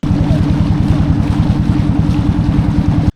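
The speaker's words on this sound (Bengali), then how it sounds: "আমরা নদীর দৃশ্য দেখতে দেখতে আগাচ্ছিলাম বেশ স্পিডে চলছিল আমাদের ট্রলার" Loud, steady throbbing of a motor trawler engine chugging along a river at speed, a continuous low pulsing drone close by with no voices.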